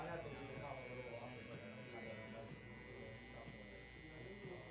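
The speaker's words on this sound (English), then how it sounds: "I will go to a trimmer that's not sharp." Dull electric hair trimmer fitted with a half guard buzzing steadily during a barbershop haircut, a continuous close hum running throughout under a man's speech.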